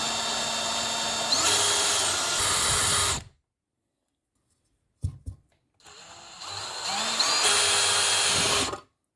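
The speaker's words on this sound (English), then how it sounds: "Now I need to drill the lay down bracket" A power drill bores into the lay-down license plate bracket of a 2019 Harley-Davidson Heritage Softail with two loud, close, whining bursts, separated by a silent pause and a couple of brief clicks.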